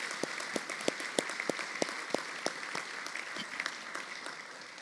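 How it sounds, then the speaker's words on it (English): Audience at an awards luncheon applauding, a steady patter of many hands clapping that builds slightly and then tapers off, with no talking over it. "let's give Ed a big round of applause for everything he did for us"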